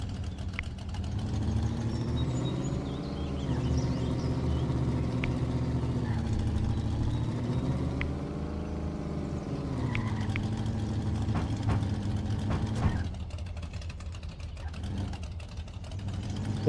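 A car in the video game Business Simulator 2026 hums along at a steady engine note that rises and falls gently as it drives through town, with a voice talking over it in places.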